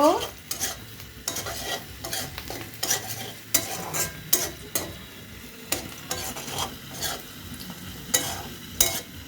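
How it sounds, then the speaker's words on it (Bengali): Spices such as chilli powder, coriander, salt and turmeric are stirred into raw jackfruit curry in a pan, with repeated scraping strokes over a steady sizzle and occasional utensil clinks, close and with nobody talking. "হাফ চামচ হলুদের গুঁড়া দিয়ে নাড়াচাড়া করব"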